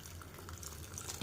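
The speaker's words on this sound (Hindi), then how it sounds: "गरम पानी देदेव।" Hot water poured into a pan of simple potato curry (alu dum) cooked without onion or garlic, a short, close trickle and splash that ends in a louder slosh.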